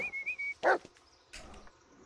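A dog in the Blair Witch video game gives a couple of short barks and a whimpering yip among quiet forest ambience, heard close and alone.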